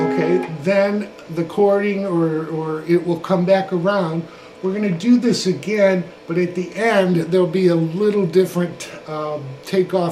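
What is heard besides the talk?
No everyday noise stands out behind the speech.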